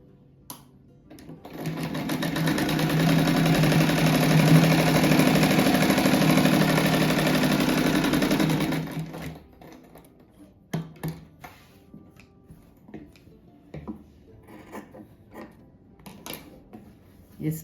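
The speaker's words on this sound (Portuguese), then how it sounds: "daí eu já costuro essa faixinha pra depois ir pro outro lado." A sewing machine stitches a small fabric strip for a patchwork rug, running loud and steady up close for several seconds before stopping, followed by scattered light clicks and handling noises.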